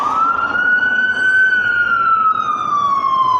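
A loud, steady emergency siren wails continuously, its tone rising slightly then slowly falling, close and dominant over a rumbling traffic background.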